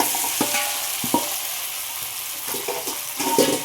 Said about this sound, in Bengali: পোহাটা দিয়ে আমি ভালো করে নাড়াচাড়া করে নেব 3-4 মিনিটের মতো।